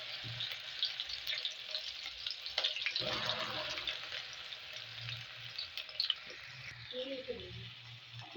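Okra (bhindi) fries in a pan with a steady close sizzle and occasional stirring scrapes, while a voice talks over it.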